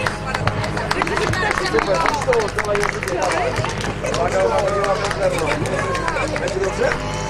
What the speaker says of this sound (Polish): Brawa dla uczestników.